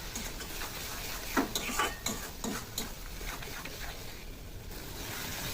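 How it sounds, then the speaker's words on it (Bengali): Spice masala with salt, chilli powder and turmeric being sautéed and stirred in a pan for chicken balls, soft scraping and clinking of a spoon against the pan in a few short bursts over a low, quiet sizzle. "মশলাটা ভালো করে কষানো হয়ে গেছে।"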